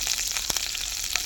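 Green chillies and curry leaves fry in a spoonful of oil in a pan, giving a steady close crackling sizzle with sharp pops scattered throughout and no talking.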